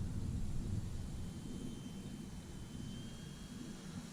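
An E-flite Timber Turbo RC plane flying low overhead, a steady, faint whirring drone over a low rumbling background, with no speech.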